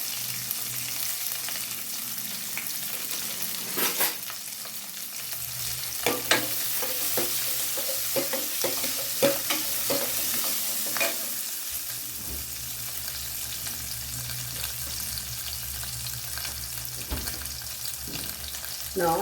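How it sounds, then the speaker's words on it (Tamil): Onion, three green chillies and curry leaves fry in hot oil for a village-style Indian sardine fish curry, giving a steady close sizzle with occasional stirring scrapes and knocks and no talking. "கொஞ்சம் வெங்காயம், 3 பச்சை மிளகா, அப்புறம் கருவேப்பிலை கொஞ்சம் போட்டுப்பேன்"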